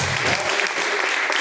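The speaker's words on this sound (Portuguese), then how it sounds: "As palmas que louvam e agradecem a Deus." A church congregation claps their hands in praise during a live worship service, a loud, dense burst of clapping filling the brief moment with a voice faintly underneath.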